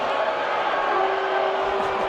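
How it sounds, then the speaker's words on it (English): A home crowd at an ultimate frisbee game between the Minnesota Wind Chill and the Madison Radicals lets out a sustained, droning boo, a steady wash of massed voices heard from a distance. "And a lusty boo from the home crowd"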